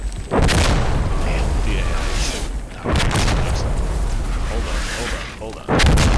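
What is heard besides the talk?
artillery barrage explosions in video game Insurgency: Sandstorm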